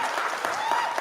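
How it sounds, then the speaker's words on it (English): Brief audience applause at a Seattle City Council District 3 candidate debate, a dense patter of clapping hands filling the room at moderate volume. "hold your applause until the end of the debate, except for right now"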